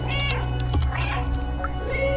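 A cat meows in the video game Stray, several drawn-out mews in a row over a steady low game ambience, close and clear with no talk.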